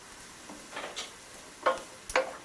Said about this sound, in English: now while the vegetables are sauteing